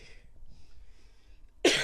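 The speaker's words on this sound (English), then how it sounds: "got me a big cough" A single sharp cough bursts out at the very end of a gaming podcast, loud and close, after a stretch of quiet low murmuring.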